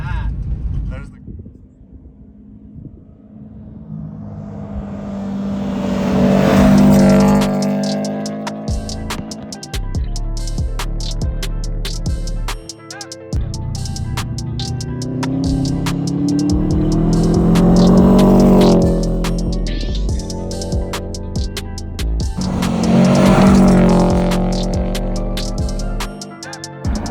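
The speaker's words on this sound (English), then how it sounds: "It actually sounds pretty good, the little like pop backfire." Subaru WRX STI engine revving in repeated rising and falling surges, loud and close, with a steady exhaust drone between the swells and brief pops suggested by sharp vertical bursts.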